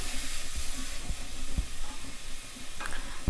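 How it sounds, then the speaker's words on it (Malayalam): Grated carrot fries in hot ghee for carrot halwa, giving a continuous soft, even sizzling hiss close by with faint low knocks and no talk. "നെയ്യൊന്ന് ചൂടാകുമ്പോൾ അതിലേക്ക് ഗ്രേറ്റ് ചെയ്ത് വെച്ച ക്യാരറ്റ് ഇട്ട് കൊടുക്കാം"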